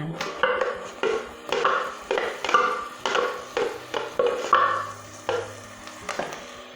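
Smooth blended chopped tomatoes go into a hot pan and get stirred, a repeated rhythm of spoon scrapes and wet sizzling swishes that rise and fall about once a second, close and fairly loud, without talk.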